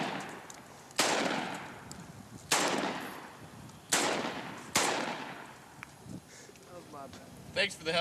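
Four loud shotgun blasts boom out at roughly even intervals, each ringing off into a long decaying tail, as shots are fired at a watermelon outdoors; people chat faintly between and after the shots.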